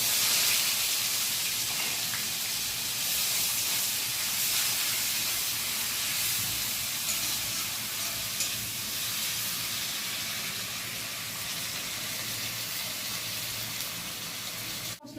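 Ginger, cumin and chili paste hits hot oil over fried tempering spices in a frying pan for a paneer curry, giving a steady, loud, unbroken sizzling hiss that runs throughout.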